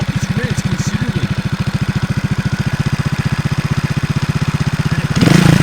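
A Beta EVO 300 4T trial motorcycle engine idles with a steady, close thumping beat at lowered revs, then picks up sharply in speed and loudness near the end.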